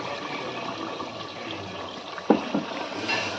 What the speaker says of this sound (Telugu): మిక్సీ జార్లో కొద్దిగా వాటర్ పోసుకొని ఆ గ్రేవీలో వేసేసుకుందాం